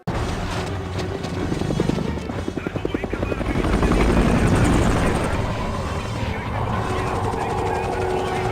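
A helicopter's rotor thumps steadily as it flies, a loud movie-style effect with rhythmic chopping blades and engine whine that swells and stays prominent, mixed with indistinct voices.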